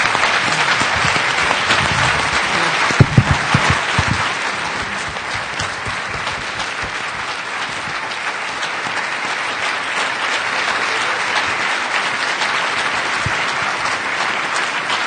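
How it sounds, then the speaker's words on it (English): An audience gives sustained, dense applause after a talk, with a few sharper claps near the start before the clapping settles into an even, continuous wash. "so let's give a round of applause for Husam"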